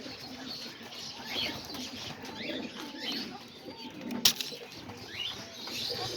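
Pigeons coo softly and repeatedly in a yard kept with chickens, over a steady outdoor hum with scattered chirps and one brief sharp clatter.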